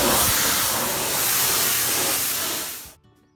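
A power washer blasts a wood deck with a loud, steady hissing spray that holds for about three seconds, then shuts off abruptly into near silence.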